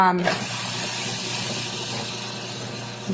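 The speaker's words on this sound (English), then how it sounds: "You're going to see how efficient this machine is at chopping up ingredients." A food processor chopping cilantro whirs steadily at high speed, a continuous loud motor drone with rough chopping noise throughout.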